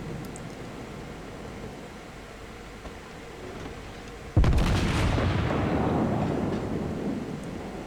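A naval cruiser's guns fire in a warship video game: one sudden heavy boom bursts out of steady ocean ambience and rolls away in a long rumbling decay, with no talking over it.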